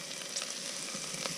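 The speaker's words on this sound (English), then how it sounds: "just fry these off slightly, just so they're not as raw" Chilies and spring onions frying gently in a pan for ramen inside a van, a soft continuous sizzle heard close with faint crackles and no talk.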